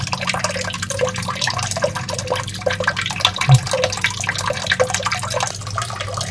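A rechargeable, waterproof 2-in-1 electric arc lighter with an LED light is switched on while held under water, giving a close, continuous watery fizzing and bubbling with small drip-like ticks throughout.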